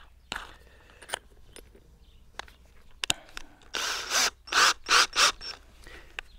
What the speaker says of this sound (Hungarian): kifúrtunk néhány lukat, akkor ezeknek a száját meg kell egy kicsit vastagítanunk